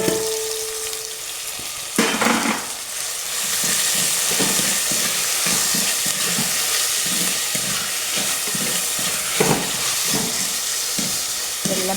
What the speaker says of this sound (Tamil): வெங்காயம், பச்சை கொச்சிக்காய் இதெல்லாம் போட்டு கொஞ்சம் கிளறிட்டு அடுத்து தக்காளி